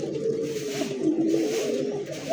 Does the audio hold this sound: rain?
no